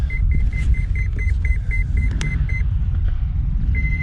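An RC transmitter for a large Freewing AL37 737 MAX model plane beeps a warning because its throttle stick is slightly raised, a steady series of short, evenly spaced high beeps over a low rumbling background.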